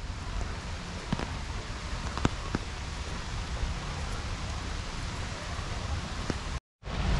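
Steady broadband rain hiss in Kandy, Sri Lanka, with occasional drop taps, continuous and fairly even, cutting out briefly near the end.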